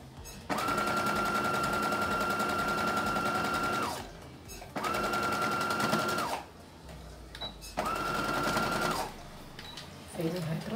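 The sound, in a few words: sewing machine stitching leather, backstitch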